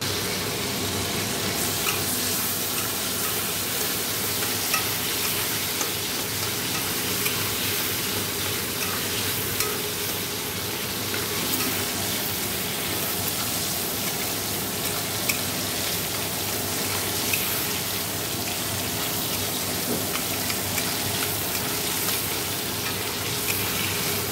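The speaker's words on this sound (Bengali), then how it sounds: "তো আগে চিংড়ি মাছগুলো ভাজবো" Prawns frying in a pan for a prawn curry, giving a loud, steady, dense sizzle that holds without a break throughout.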